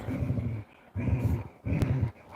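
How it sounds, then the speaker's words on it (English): A dog growls low in three rumbling bursts, each lasting about half a second with short pauses between, close up with no one talking. "Why are you growling? Because you get too close to that ball."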